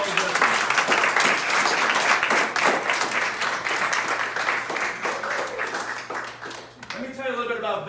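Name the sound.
audience applause for veterans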